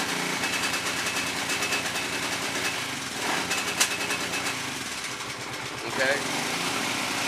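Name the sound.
Kawasaki KVF650 Brute Force ATV engine running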